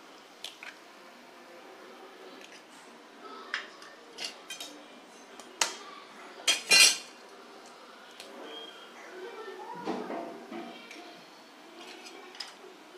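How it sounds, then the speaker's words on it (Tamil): Eggs cracked onto a half-cooked dosa in a hot pan: a loud wet crack and squish midway, with soft sizzling, drips and a few utensil taps on either side. "இது மேலே நம்ம ரெண்டு முட்டை உடைச்சி ஊற்றிக்க போகிறோம்"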